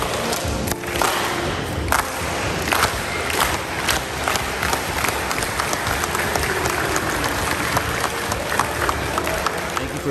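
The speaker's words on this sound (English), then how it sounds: "1 rally clap so we know how to do it" A crowd at a summer basketball camp does a rally clap, with sharp, loud claps building over a roar of shouting and cheering voices.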